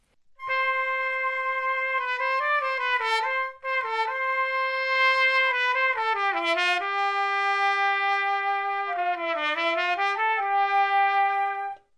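A trumpet and a keyboard flute sound play a Ravel melody in unison, blended sustained notes with smooth stepwise motion, clear and close with no talking.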